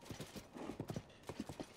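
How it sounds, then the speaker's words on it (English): Horses in Zelda: Tears of the Kingdom clop their hooves in quick bursts with a short whinny mixed in, close and fairly loud, with no talking. "Bunch of bully horses."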